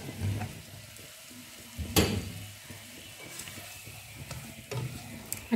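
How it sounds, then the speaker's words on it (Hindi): Potatoes being stirred into a frying samosa filling in a pan, a soft continuous sizzle with scraping and clinking of a spoon and one sharp clatter, close and without talking. "अब हम इसके अंदर आलू ऐड करेंगे।"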